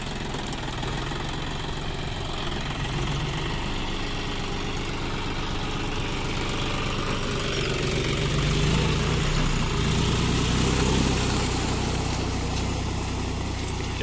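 A John Deere 5105 tractor pulling a disc plough through red soil, its diesel engine droning in a steady, loud, continuous knocking rumble with no talk.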